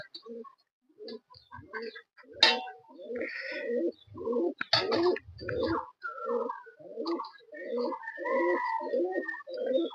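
Pigeons coo repeatedly at close range, their low rhythmic coos coming in steady runs with a few sharper noises in between and no talking.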